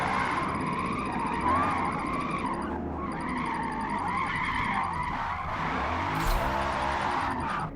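A BMW drifts through corners in a racing video game, its tires skidding and squealing in long sustained bursts over the steady drone of the engine, loud and close, with a brief break partway through.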